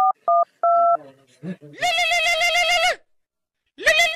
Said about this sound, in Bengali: আবার কল দি।